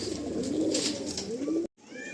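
Green-eyed black pigeons coo softly at close range, a low, rolling murmur that wavers steadily before a brief gap and a fainter resumption.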